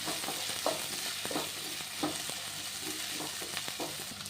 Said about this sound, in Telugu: కరివేపాకు, బాగా ఫ్రై చేసుకున్నామండి.